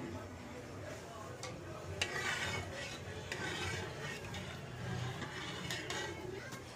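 Semolina for suji halwa is stirred in a pan with a spoon, producing a steady soft scraping and faint sizzle, with occasional light clinks against the metal and a voice speaking at times.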